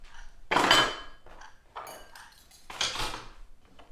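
Miso soup with vegetables is ladled into a small bowl, giving a few close clinks and scrapes of ladle against pot and bowl in short separate bursts, with no voices.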